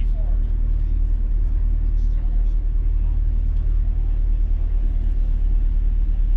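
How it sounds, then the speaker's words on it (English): Three-liter Toyota Supra engine heard from inside the car at Eagles Canyon Raceway, a steady low droning rumble throughout, with a person talking over it. "first ever drive in a three liter Supra"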